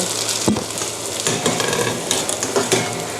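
Ham and cheese wontons fry in hot oil in a pan, a dense crackling sizzle with sharp spatters and a few utensil clicks, close and loud throughout.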